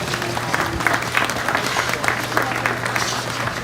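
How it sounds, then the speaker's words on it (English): Audience clapping at a hog show, a steady dense patter of hands that holds through the whole stretch, with a low hum running beneath. "Let's give them one more big round of applause."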